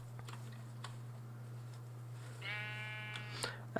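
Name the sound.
sheep bleating in a video game (Minecraft modded server)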